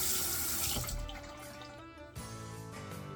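A faucet runs into a sink as a face is rinsed after shaving, loud rushing water that thins out midway, then a splash and the stream resumes, with no talking.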